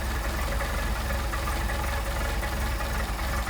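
A Mercedes 190SL engine idles on Solex carburetors, a steady, close, low rumbling run with an even pulse and no talking.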